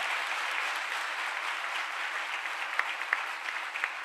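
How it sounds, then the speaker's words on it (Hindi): Audience applause at a Ranchi revival meeting, a steady wash of many hands clapping together throughout, fairly loud and continuous with a few sharper claps near the end. "जोरदार ताली बजाएं"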